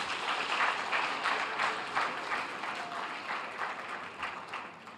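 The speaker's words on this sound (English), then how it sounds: "They deserve a round of applause." Applause from an audience at a government innovation showcase in Lagos, steady and moderately loud clapping that runs evenly across the whole stretch, with no talk over it.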